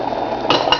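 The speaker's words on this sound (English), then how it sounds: "Now I'm going to stir the rice around in the pot." A metal spoon scrapes and clinks against the inside of a pot while rice is stirred, giving two sharper knocks toward the end over a soft continuous scraping.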